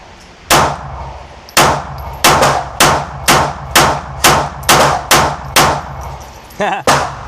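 A Smith & Wesson Bodyguard .380 ACP pocket pistol fires about eleven sharp, close, ringing shots in a fast steady rhythm at a range, with a brief clatter at the end.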